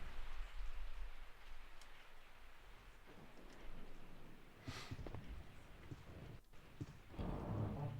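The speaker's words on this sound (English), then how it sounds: "I woke up to the sound of falling rain." Rain pours steadily in Resident Evil 3: Nemesis on PS1, a soft wash broken by a couple of low thunder rumbles and a brighter splash near the end, with no voices.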